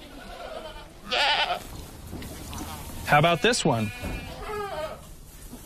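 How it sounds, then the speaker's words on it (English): Goats on a farm, including mothers with kids, bleating in several short, loud, wavering calls near at hand, with a person speaking briefly between them. "We even got mama goats with baby goats."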